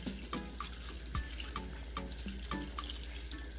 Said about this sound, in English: So we're gonna go add like 4 cups of water to this.